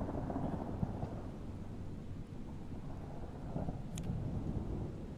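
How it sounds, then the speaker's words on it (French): Thunderstorm ambience in a Tabletop Simulator game session, a continuous low rumble of thunder and rain, fairly faint and steady, with no talk over it. "on a gardé l'orage, on trouvait ça rigolo"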